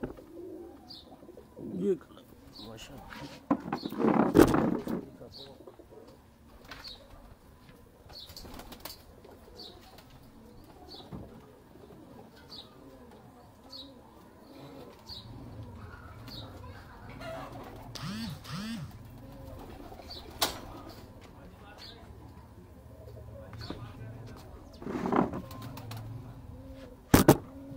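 Heera Lal pigeons coo in a loft with soft, repeated low calls and occasional brief wing flaps, while someone talks intermittently and sharp chirps recur faintly in the background.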